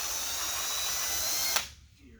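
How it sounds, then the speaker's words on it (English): A drill bores through an acrylic plastic panel on a Cessna 140 with a loud, steady whine that cuts off abruptly near the end, leaving quiet room tone. "what happens is the acrylic will melt as the drill is heating up the plastic"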